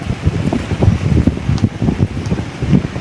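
Strong wind roars loudly against the microphone in rumbling bursts, with a rushing wash that could be heavy rain mixed in, no talking.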